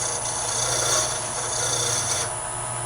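A file rasps steadily against the corner of a small lathe thread cutter to put a chamfer on it, producing a continuous, moderately quiet scraping with no voices.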